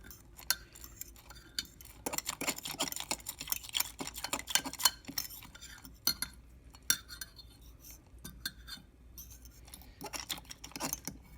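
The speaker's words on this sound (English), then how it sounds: "So, let's stir it well." A utensil stirs a microwave meal in a bowl, giving irregular scraping clinks and taps against the dish, close and alone in a quiet room.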